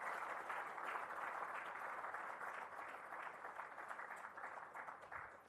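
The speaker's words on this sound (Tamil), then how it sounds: "ஒரு கைத்தட்டல் ஒன்றை தருமாறு கேட்டுக்கொள்கின்றேன்" A ceremony audience claps together at an awarding event, a sustained wash of many hands heard faint and distant, holding steady throughout without voices.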